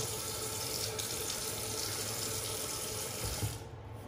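Water runs steadily from a tap as more water is worked into a shaving lather. The rush is continuous and close, then drops away at the end.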